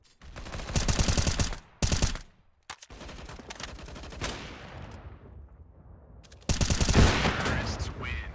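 Gunfire in a Counter-Strike: Global Offensive pistol round: loud, close bursts of rapid shots broken by short gaps, then a sustained rattle and another loud volley near the end.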